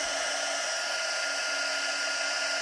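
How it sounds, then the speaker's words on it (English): An embossing heat tool, not yet preheated, blows hot air steadily onto a card in a continuous even whoosh with a faint whine, close and alone. "I haven't preheated my heat tool, so it's taking a bit longer to get the embossing process started"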